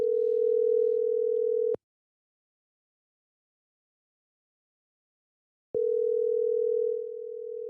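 A telephone line sounds a steady single-pitched tone for a couple of seconds, falls silent for about four seconds, then the same tone returns, like a ringback cadence on a phone call; no one speaks.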